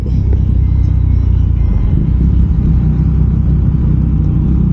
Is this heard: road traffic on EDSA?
yes